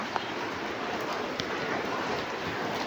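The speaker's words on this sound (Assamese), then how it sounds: "মোটামুটি 3টা মানৰ পৰাই বৰষুণ আহি আছে" Steady rain hisses evenly across the whole stretch, with a few louder drops tapping nearby and no voices.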